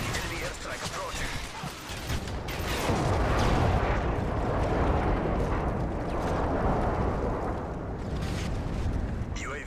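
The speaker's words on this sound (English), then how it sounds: "Friendly Predator missile inbound. Enemy airstrike approaching." Airstrike explosions in the Modern Warfare 3 video game, a dense, continuous roar of blasts and rumbling that swells after the first couple of seconds and stays loud throughout, with game announcer voice lines over it.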